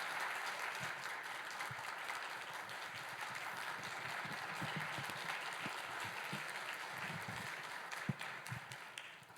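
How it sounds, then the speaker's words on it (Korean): A church congregation applauds at a Wednesday evening prayer service, giving steady, fairly soft clapping that holds through the clip and ends with a few sharper individual claps. "격려와 사랑의 박수를 주시면서요, 함께 은혜를 사모함으로 모시도록 하겠습니다."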